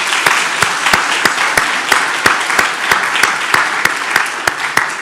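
A conference audience applauds steadily for several seconds, a dense wash of many hands with regular sharp claps standing out, loud and close with no talk over it.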